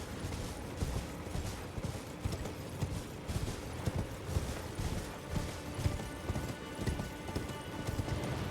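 A horse's hooves clip-clop in a steady rhythmic trot in Elden Ring, moderately close, with faint creaking tack alongside.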